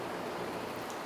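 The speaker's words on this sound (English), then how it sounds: "If you hear noise in the background, that is the pitter-patter of rain." Monsoon-season rain patters outside in the desert as a dense, continuous, even hiss of countless small drops, steady and fairly soft, with no voices.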